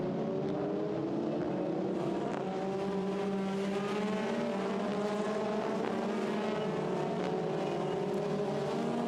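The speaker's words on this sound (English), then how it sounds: "as Dries van Thor lights up the rears as he blasts away now from the grid and sets off down towards turn 1" Formula Renault 2.0 race cars pulling away from the grid at the Nurburgring, a steady blended engine drone with rising and falling harmonic tones, heard from a distance and continuous throughout, with no talk.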